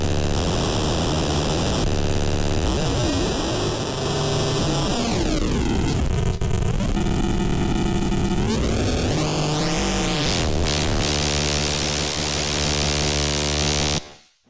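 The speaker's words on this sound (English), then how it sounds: "I got to use this fantastic gizmo here, which is a bit crusher, and it sounds like this." A bit crusher effect grinds an Atari-style 4-bit digital oscillator into a dense, buzzing, harsh drone that runs for about fourteen seconds. Its pitch dips and rises in the middle, and the sound plays alone at steady loudness before cutting off.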